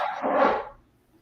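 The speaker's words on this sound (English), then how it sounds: "That's my dog." A single dog bark, loud and close and fairly short, with a broad burst of noise that fades quickly into quiet.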